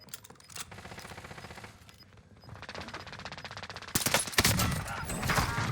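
Automatic gunfire in Call of Duty: Warzone, with rapid bursts of close machine-gun fire overlapping into a dense fusillade that grows louder toward the end.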